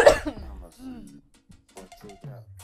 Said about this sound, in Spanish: Y esa tos, muchacha.